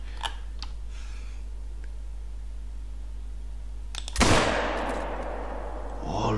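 In theHunter: Call of the Wild, after a quiet stretch with faint ticks, a single loud hunting rifle shot cracks and echoes away into a long decaying tail.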